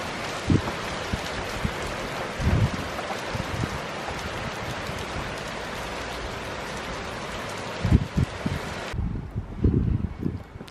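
Steady gusting wind roars across the whole clip, with rain pattering and occasional low buffeting thumps against the microphone.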